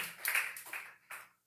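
A church congregation claps during a Sunday morning worship service, in a few short bursts of applause that fade out within a second or two.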